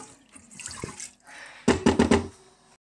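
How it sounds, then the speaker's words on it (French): Water poured into a Cookeo multicooker over rice gives a short burst of splashing gurgles, preceded by faint handling clinks and softer pouring sounds. "Et pour terminer, venir verser l'eau."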